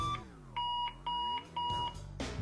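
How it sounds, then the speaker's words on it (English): A loud 113-decibel alarm clock beeps in three sustained pulses at a steady rhythm, each a bright two-tone bleep, with a hum between and a burst at the end. "unique 113 decibel extra loud alarm with adjustable tone and volume control"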